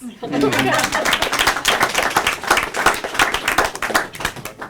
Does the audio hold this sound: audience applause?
yes